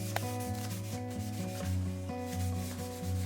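A cloth rag rubs wax into a vintage wooden kitchen piece with light, rhythmic back-and-forth strokes, a soft close scraping swish repeating steadily over a low background hum.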